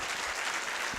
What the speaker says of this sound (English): If you agree, clap for this.